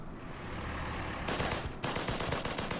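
A BA-20 armoured car fires at an AA gun in the Order of Battle strategy game. The burst of machine-gun fire is loud and rattling, starts abruptly and runs for about a second and a half in dense repeated bursts.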